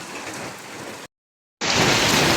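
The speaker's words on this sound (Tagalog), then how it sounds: "Malasang ulan. Mababasa tayo, wala tayong payong." Steady, dense rain falling and drumming on surfaces, loud and continuous, cut off by a brief gap of silence before returning even louder.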